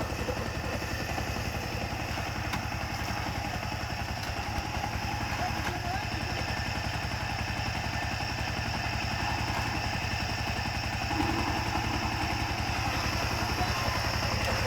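A motorcycle engine idles steadily throughout, a low continuous rumble with faint background noise and no clear change in pace.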